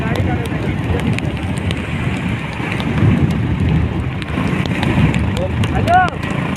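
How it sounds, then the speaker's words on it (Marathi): Rain falling outdoors as a steady broadband hiss, fairly loud and continuous, with a voice talking over it. "हा पाऊस आहे, थंडी वाजते."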